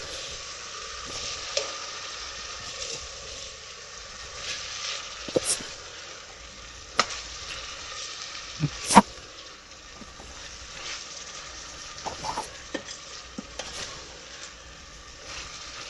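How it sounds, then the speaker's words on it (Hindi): Chicken keema is stir-fried in a pan, a quiet, steady sizzle broken by sharp spoon scrapes and clinks against the metal at irregular intervals, heard close with no voices. "अब इसमें अच्छी तरह हम उसको भूनते हैं।"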